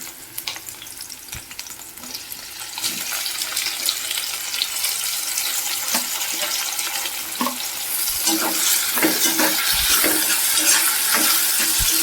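Onions frying in oil as tomatoes go into the pan, a steady crackling sizzle with scattered clicks of stirring that grows louder and hissier toward the end, close by and without speech.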